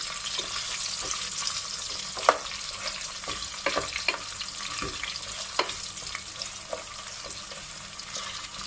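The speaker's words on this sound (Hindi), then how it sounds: "प्याज को हम ज़्यादा फ्राई नहीं करेंगे, लाइट सा फ्राई करेंगे" Onion lightly frying in a pan for a chicken and capsicum curry, a steady close hiss with scattered small pops and crackles and occasional stirring clicks.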